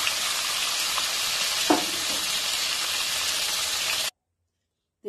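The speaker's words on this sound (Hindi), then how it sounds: "आमी आरेक पीठ उल्टे दिच्छि माछगुलो लाल लाल करे भेजे नेब" Shor puti fish fry in hot oil in a pan, a loud, steady crackling sizzle close by with a brief clink of a utensil partway through, before cutting off abruptly.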